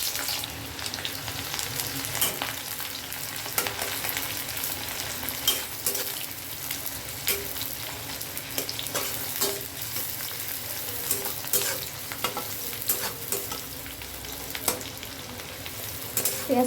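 Medium onions frying in oil with bay leaf, cardamom and cinnamon, a steady close sizzle broken by frequent scraping stirs and crackles.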